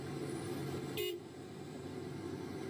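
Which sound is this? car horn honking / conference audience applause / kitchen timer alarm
car horn honking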